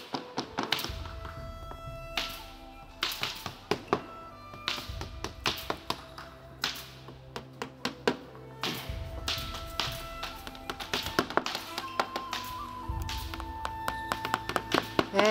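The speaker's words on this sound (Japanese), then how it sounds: "椅子鋲というのを、普通はこの椅子のヘリに使うんですが、これを私たちは文字にして、今、種沢製作所の種沢邦勝が、文字にして最後に皆さんに、お見せしたいと思います。" Upholstery chair tacks are hammered one by one into a design of letters at a craft demonstration, a long series of sharp, irregular taps and knocks, close and fairly quiet.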